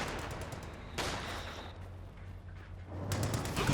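Machine gun fire in the Company of Heroes 2 real-time strategy game, heard as dense crackling bursts that run throughout, with a sharper, louder volley about a second in and another rise near the end, under a steady low rumble.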